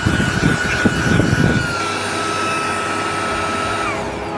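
A vacuum cleaner runs inside a Tesla Model S Plaid with a steady whining hum, while rustling and bumping from the nozzle against the interior fades after the first second and a half.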